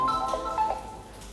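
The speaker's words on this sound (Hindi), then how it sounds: "इसी में फोन आ गया।" A phone rings with a short electronic melodic tone, moderately faint, repeating a couple of notes without anyone speaking.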